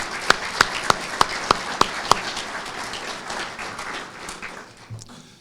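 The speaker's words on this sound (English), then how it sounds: "Please join me in a round of applause." A small outdoor audience at a veterans memorial groundbreaking applauds, with several crisp, evenly spaced claps standing out near the front over a softer spread of clapping that fades away after a few seconds.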